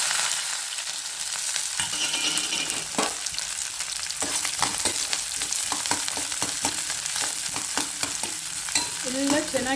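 Garlic, lentils and onion fry in hot oil for a bitter gourd palya, a steady sizzle running throughout with repeated sharp scrapes and clatters of a spoon stirring against the pan.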